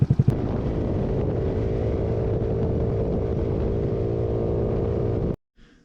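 A GY6 scooter engine fitted with nitrous runs at a loud, steady high-revving drone near 6,500 RPM for several seconds, then cuts off abruptly, leaving near silence.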